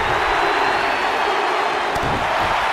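A wrestling arena crowd in the WWE 2K19 video game produces a dense, steady roar of cheering. The sound is loud and continuous, with one faint thud near the middle and no clear talking.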